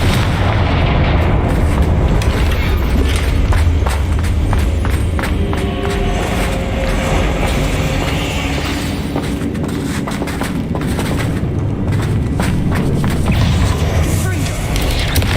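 Continuous loud booming explosions from the Confringo spell in Hogwarts Legacy, dense and rumbling throughout with bursts of blasts layered over a busy game soundscape.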